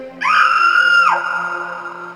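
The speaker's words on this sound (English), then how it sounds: "You hear a woman scream in the distance." A woman's scream from the video game Return of the Phantom rises sharply into a sustained, piercing shriek, then drops away and leaves a lingering high tone and a low hum.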